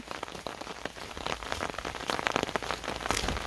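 Steady rain pattering densely on a surface in a Swedish forest, a constant close wash of drops with no voices.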